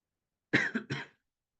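A short burst of close coughing, two or three quick rough coughs in succession, then silence.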